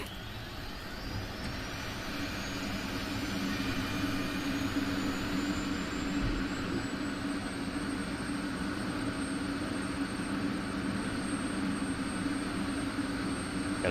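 Jet engine spooling up in DCS World, a steady roar with a rising whine that climbs and then levels into a sustained high tone, loud and continuous throughout with no talking.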